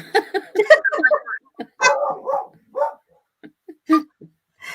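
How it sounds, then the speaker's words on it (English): A dog barks in a few short, loud bursts at home, mixed with people talking nearby. "Friendly dogs or not, they're going to bark."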